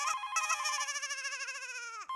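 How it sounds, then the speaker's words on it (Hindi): A warbling electronic telephone ring trills continuously for about two seconds, fairly quiet and cutting off abruptly. "अबे फोन उठा रही है तो उठा, घंटी बज रही है कब से।"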